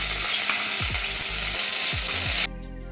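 Ginger and cumin paste hit hot oil with whole tempering spices, giving a loud, steady sizzle for a few seconds before it abruptly cuts off, with faint low hum beneath.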